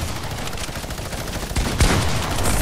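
Sustained automatic gunfire in Fortnite rattles on steadily, joined near the end by a louder, heavier blast, all close and alone without talk.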